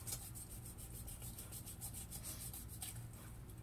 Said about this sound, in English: you just kind of cut through this joint right here